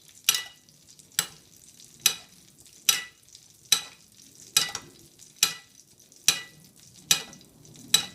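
Wild duck breasts frying in a pan on a stove top, with about ten sharp, loud bursts of spatter and sizzle coming at a steady rhythm of roughly one per second over a faint background hiss.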